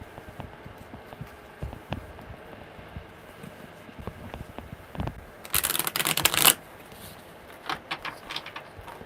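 Tarot deck handled with small taps and clicks, then one loud riffle shuffle of about a second before quieter handling resumes.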